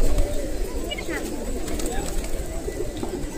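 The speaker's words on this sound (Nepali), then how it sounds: "लाखौँको सङ्ख्यामा छ परेवाहरू" Pigeons at Pashupatinath temple in Kathmandu, gathered in great numbers, give soft low coos over a busy crowd murmur and nearby chatter, with a brief flutter of wings.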